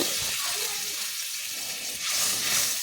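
Water being poured into a cooking prawn curry in a pan: a steady, close rushing and splashing wash that continues throughout the clip, brightening slightly toward the end.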